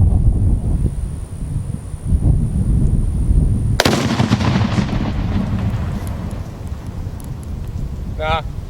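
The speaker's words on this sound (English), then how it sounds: "Let's have a little explosion." A low-velocity exploding target packed into a watermelon detonates in one sharp, loud outdoor blast partway through, followed by a fading rumble over steady background noise.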